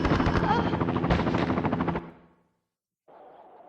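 A helicopter fires guns in the Tomb Raider Chronicles video game, a dense roar of rapid gunfire and rotor noise that cuts off abruptly, followed after a pause by a fainter low rumble.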